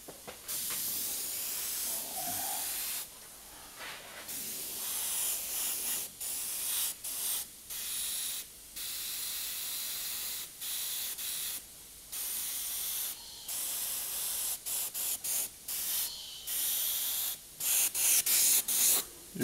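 Airbrush spraying dark paint onto a totem pole gives close, steady hissing in many short and long bursts with brief gaps between, and no voices.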